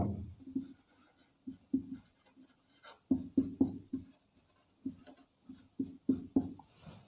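Pen or marker writing out a class 10 geometry theorem proof, heard as close, rhythmic bursts of scratchy strokes separated by short pauses, alone with no talk.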